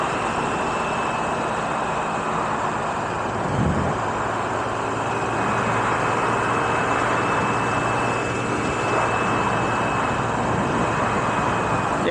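Honda Navi scooter running with an aftermarket exhaust and a 100 main jet, a steady, fairly deep engine drone heard continuously while riding, with road and wind noise and no talking.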